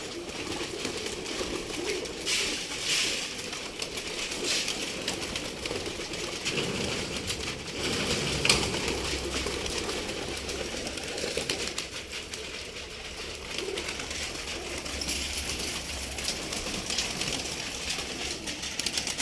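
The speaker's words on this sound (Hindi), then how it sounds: "माशाल्लाह कबूतरों को देखें, उन्हें ये कि दाना डाल दिया है, सब नीचे आ रहे हैं।" Pigeons coo softly in a low, throaty murmur while being fed chickpeas amid a busy outdoor background, with occasional wing flutters and scattered rustling throughout.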